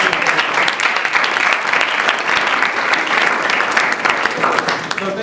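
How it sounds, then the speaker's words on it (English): A meeting room at a University of Central Florida AMSA pre-med student group general meeting breaks into sustained, loud applause that carries on evenly for the whole few seconds. "So just a round of applause for you guys and for our officers for being such amazing"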